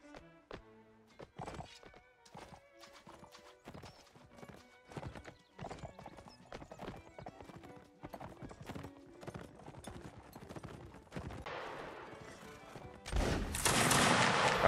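Several horses canter in a Napoleonic Wars game battle, their hooves clip-clopping in a steady rapid rhythm with occasional whinnies, while musket fire crackles in a sharp burst near the end.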